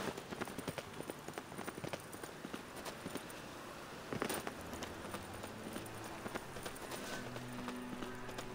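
Horse hooves clip-clop in The Witcher 3, a steady walking rhythm of crisp hoof hits over a low ambient game soundscape, moderately close, with a slightly heavier thud midway and no clear talk.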